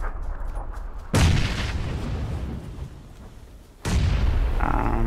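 Grenade blasts in the PUBG battle royale game: two loud, sudden booms with heavy low rumble, each followed by a sustained roaring decay, the second explosion a few seconds after the first.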